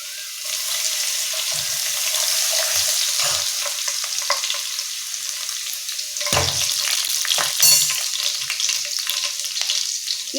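A tempering of cumin, curry leaves and crushed garlic for raw mango tambuli sizzles steadily in hot oil, with a dense, continuous crackle and occasional scraping stir strokes throughout.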